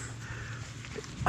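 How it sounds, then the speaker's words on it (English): A dog on a mountain bike trail gives a brief sound at the very end, loud and close, after a moment of low outdoor rumble. "Oh, no. Dog's there."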